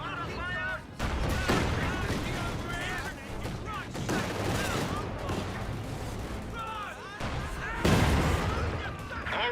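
Gunfire and artillery from a Company of Heroes 2 battle crackle and boom in dense, overlapping bursts throughout, mixed with shouted in-game voice lines.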